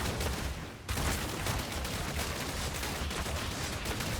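Rapid, dense barrage of firing from the Shikar Strafe skill in Diablo Immortal, a loud continuous rattle of shots that briefly thins out near the start, then keeps pounding without pause.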